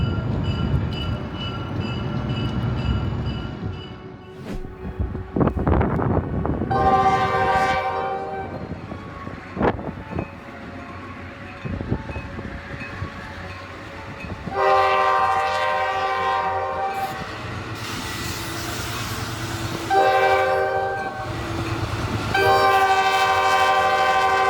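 A New York, Susquehanna and Western snow-clearing train works the steep Utica-Sangerfield branch grade, sounding repeated loud, sustained horn blasts in separate bursts over a steady rumble of the train.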